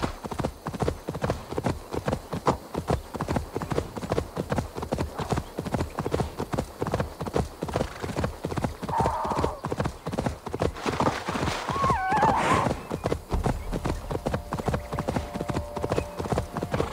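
Hooves of a horse being ridden in Assassin's Creed Valhalla clop in a quick, steady rhythm, a brief whinny rising partway through, with faint talk in the background.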